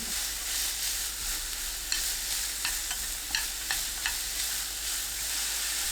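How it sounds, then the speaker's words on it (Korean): Carrots stir-frying in olive oil over medium heat in a pan, a steady soft sizzle with occasional light clicks of a utensil against the pan, fairly quiet and without voices. "팬에 올리브유 2큰술, 당근 넣고 중불로 1분 30초 볶아주세요."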